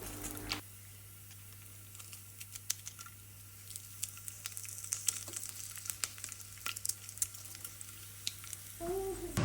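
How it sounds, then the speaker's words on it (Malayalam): Mustard seeds, curry leaves and chillies frying in hot coconut oil, a quiet close sizzle with many small sharp crackles and pops scattered through it, starting after a brief thump at the start. "കടുക് പൊട്ടി കഴിയുമ്പോൾ നമുക്ക് വേപ്പിലും മുളകും ഇടാം"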